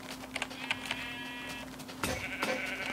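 A sheep bleats in the Minecraft video game, a few short wavering bleats followed by a longer electronic-sounding call, fairly quiet and with no talking.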